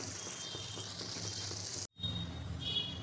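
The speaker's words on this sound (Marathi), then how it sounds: "अशाच पद्धतीने सर्व तळून घ्यायचेत आपल्याला" Anarse, crisp rice-flour sweets, deep-fry in oil over a low flame, producing a steady, moderately quiet hiss of bubbling oil that breaks briefly and then continues.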